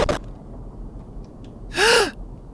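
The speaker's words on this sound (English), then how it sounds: "That's me gasping there." A single sharp, breathy gasp from a person, loud and close, following a short burst of noise and otherwise quiet surroundings.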